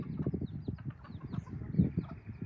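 Low, soft clucking from hens close by with baby chicks, faint chirps and small rustles in between.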